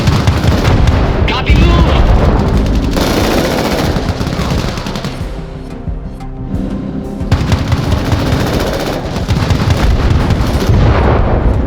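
Heavy artillery and automatic gunfire in the military shooter Crossfire: Legion, loud and continuous booms and rattling bursts filling the scene, with a brief radio voice speaking over the barrage.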